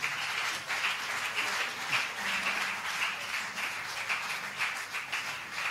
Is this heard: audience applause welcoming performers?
yes